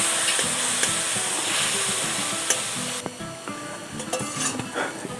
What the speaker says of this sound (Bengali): দিয়ে এটাকে আমি এখন কষিয়ে নেবো, খুব সুন্দর করে কষিয়ে নেবো।